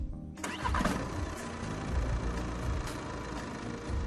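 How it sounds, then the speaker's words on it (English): A car engine cranks and catches near a tyre being repaired, then settles into a steady mid-pitched idle that runs on at moderate volume. "and then start your engine."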